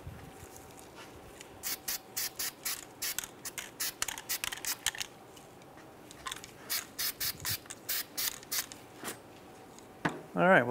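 Anti-seize sprayed from an aerosol can onto a car's brake parts, with the parking brakes covered by a paper towel: many short, close hissing bursts in quick irregular runs, then a louder burst near the end.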